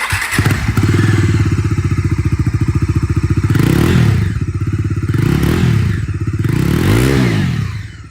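A Bajaj Dominar 250 motorcycle engine starts and idles with a throbbing, rapid thump, then revs up and down several times, loud and close.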